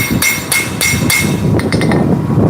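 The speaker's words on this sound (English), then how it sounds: "So this is all about light hammer blows and just correcting areas." Light hammer blows ring out as a forged steel knife is planished on an anvil, with several evenly spaced sharp metallic strikes followed by a quicker run of lighter taps, close and loud.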